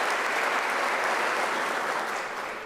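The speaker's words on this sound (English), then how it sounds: "You can clap for the university." Graduation ceremony audience at UNISA applauding, a dense continuous roar of many hands clapping that holds steady and then fades slightly at the end.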